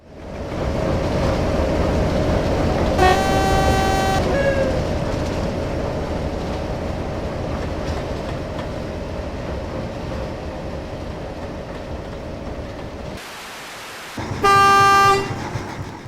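A simulated Class 03 diesel shunter locomotive idles with a steady engine drone, with two tuneful horn blasts, one early and one near the end after a brief drop in the engine sound.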